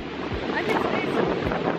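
Waves and wind at Seminyak Beach in Bali: a steady wash of surf and gusty microphone buffeting, fairly soft, with a couple of brief low thumps, and no clear voices.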